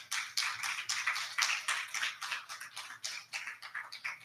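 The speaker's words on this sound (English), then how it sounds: "Yes, that deserves a great applause for each of them." A crowd applauds steadily, a dense patter of many hands clapping at moderate volume, somewhat distant and continuous throughout.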